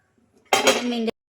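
A metal baking pan set down onto a stovetop for baking a suji cake, giving one short, close, loud clatter with a brief ringing tail, alone in a quiet kitchen.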